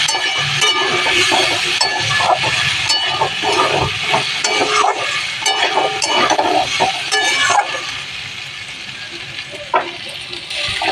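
Loud, steady sizzling of food frying in a pan for shukto, with scraping and stirring clatters throughout, easing slightly toward the end.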